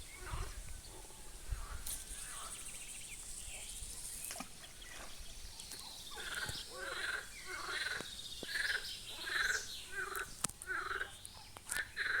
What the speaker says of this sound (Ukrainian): Але жаби квакають капець.